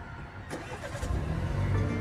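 BMW car engine started by push button: a brief starter click and whir followed by the engine catching and settling into a low, steady idle nearby, fairly quiet overall.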